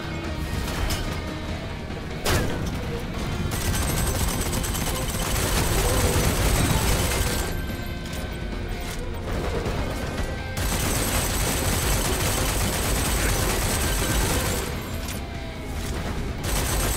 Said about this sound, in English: Concentrate fire on the enemy shooting at Lycus.